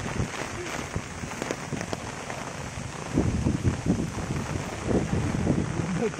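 Heavy rain pours steadily with gusty wind buffeting the microphone, a dense wash of noise that swells louder in the second half, with a few faint voices mixed underneath.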